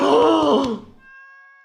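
A cat meows in the video game Stardew Valley: one loud, drawn-out, wavering meow up close, followed by a soft chime tone that hangs on after it.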